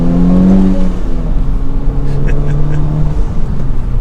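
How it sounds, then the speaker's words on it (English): A 2021 Honda Civic Type-R in sport mode, 300 horsepower turbocharged to the front wheels, accelerating from inside the cabin: a steady engine drone rising in pitch under broad road noise, with no talking. "I'll go ahead and bump us right into sport mode, and we'll do a small acceleration, 300 horsepower to the front wheels"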